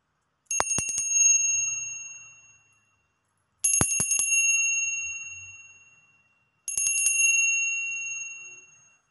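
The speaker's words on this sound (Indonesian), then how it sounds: "kita akan memulai dengan tanda lonceng berbunyi." A bright metallic bell rings three times at even intervals, each strike made of rapid repeated dings that fade away slowly. The rings are clear and fairly close, with silence between them and no talk.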